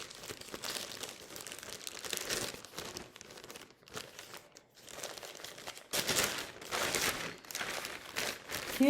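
A plastic bag holding Crocs is crumpled and handled close by, giving irregular crinkling and rustling bursts with a short quieter pause midway and no speech.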